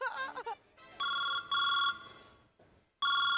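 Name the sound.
telephone ringing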